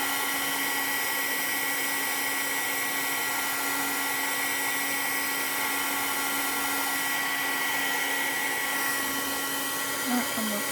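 Heat embossing tool blows steadily on blue embossing powder, a constant loud whirring hiss with a faint electrical whine that runs unbroken throughout.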